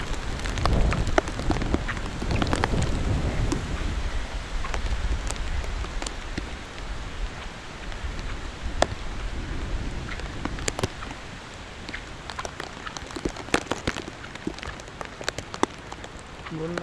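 A storm with heavy flooding brings steady, dense rain and a rumbling gust of strong wind, loudest in the first seconds, with scattered sharp drips and taps on nearby surfaces.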